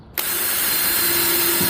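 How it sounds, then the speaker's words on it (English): A large drill bit boring straight through a wooden board for screws to pass, starting abruptly as a loud, steady whirring grind that holds close and continuous to the end, with no talk. "This big drill is the same size as the screws."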